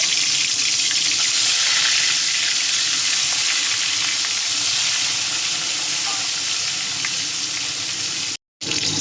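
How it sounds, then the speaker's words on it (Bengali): Snakehead fish frying in hot mustard oil in a kadai gives a loud, steady sizzle that continues throughout, with a brief dropout near the end. "তেল গরম হয়ে গেছে, মাছগুলো ভেজে নেব।"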